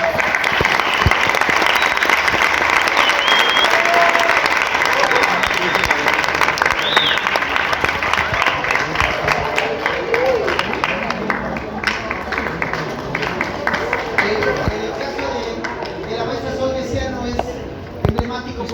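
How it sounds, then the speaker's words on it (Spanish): A conference audience gives sustained applause for a teacher, a broad, dense crowd clapping that stays full and loud for nearly twenty seconds with scattered voices and whoops mixed in. "yo les pido un aplauso para la maestra Sol"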